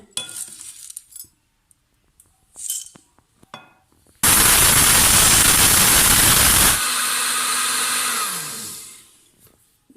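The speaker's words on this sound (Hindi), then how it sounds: "अब हम अपनी हल्दी को पीस लेते हैं।" A kitchen electric grinder pulverises roughly pounded turmeric into powder. A few soft clinks come first, then the bladed motor whirs loudly for a few seconds, drops to a lower hum and winds down to silence.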